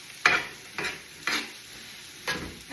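Softened vegetables tossed in a hot frying pan, four separate stirring swishes over a steady sizzle, close and fairly loud, with no voices.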